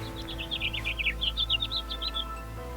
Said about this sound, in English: Ah, the birds are singing.